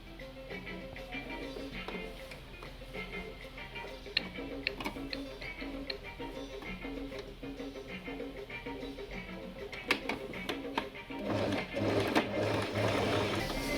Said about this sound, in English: You notch the middle so you can match both of them, and then we sew like this